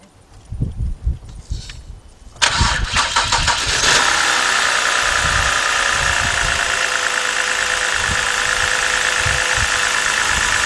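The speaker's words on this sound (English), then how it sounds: "let me go start the car up" A 2011 BMW 328i with a 3.0-litre engine and a cylinder 2 misfire cranks briefly after some handling noises, catches at once, and settles into a steady, close-up idle with a slightly rough, uneven hum.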